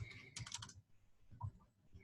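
Quiet typing on a computer keyboard: a short burst of quick clicking keystrokes, then a pause and a few softer scattered taps, close and faint.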